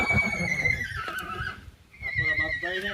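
A tethered mare gives two loud, close neighs, each a high whinny that falls in pitch, with a short break between them, in an outdoor rural setting.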